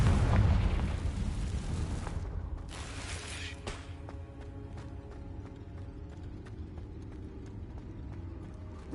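A loud blast from the Confringo spell in a Harry Potter video game bursts at the start, then gives way to a thinner, rattling tail of clicks and hum that fades gradually.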